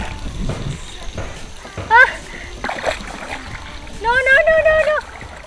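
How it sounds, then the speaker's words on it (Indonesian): A paddle dips into a river from a small boat, producing splashes amid bird calls and people talking nearby. "aku pengen nyobain juga nih dayung"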